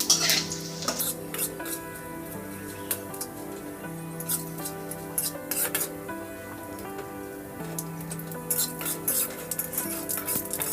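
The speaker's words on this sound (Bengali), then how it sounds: "প্রথমে আমি ফোড়নের জন্য যে গোটা মশলাগুলো নিয়ে রেখেছিলাম সেগুলো কড়ার মধ্যে দিয়ে ভালো করে" Whole spices for tempering a vegetarian cauliflower curry crackle and sizzle in hot oil in a wok, a constant close frying hiss dotted with irregular sharp pops and stirring clatter.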